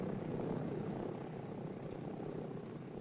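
A cargo aircraft on a runway gives a steady, broadband engine roar throughout, fairly distant and even in level, with no voices.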